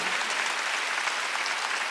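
A Korean church congregation at a Wednesday worship service breaks into a short, even round of clapping, a moderate, steady patter of many hands with no one speaking over it.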